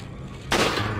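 A single sharp gunshot blast rings out in Resident Evil 4 after a brief lull, a sudden close crack with a noisy rumbling tail.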